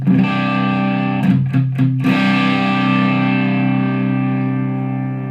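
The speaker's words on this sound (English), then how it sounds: "I'm switching to the overdrive channel on my amp" A loud electric guitar chord through an amp's overdrive channel rings out with gritty distortion, a few quick strums near the start, then sustains and slowly fades.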